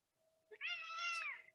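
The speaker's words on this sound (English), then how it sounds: "Oh, Ori, can you come control the cat?" A cat meows once indoors during a home yoga session, a single clear drawn-out meow lasting about a second over a faint steady hum.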